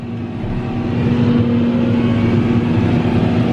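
A Fendt 724 tractor fitted with a McHale front mower, its engine droning steadily and loudly up close as it works a hay field.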